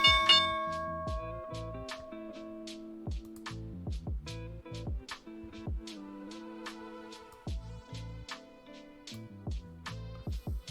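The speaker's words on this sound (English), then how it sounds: "Here's the bell" A ringing bell sounds for a stock market open, with a rapid string of bright, repeated metallic strikes in an uneven rhythm, each leaving a short ringing tail, loud and up close.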